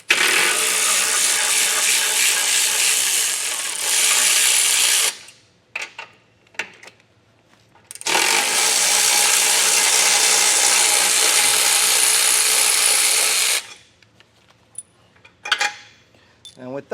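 Rapid ratchet clicking loosens bolts on a 2023 Jeep Grand Cherokee in two long, loud runs, separated and followed by quieter clinks and pauses.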